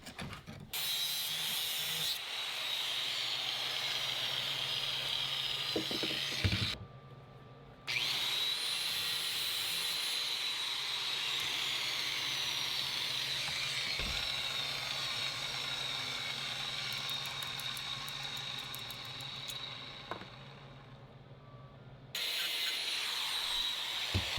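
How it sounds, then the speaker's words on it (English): A power tool whirs steadily up close while grinding rusty metal off a fuel tank bulkhead plate from a Ski-Doo Safari snowmobile, running continuously with two short pauses and no talking. "But I'm going to get this rusty metal off and clean this up a little bit."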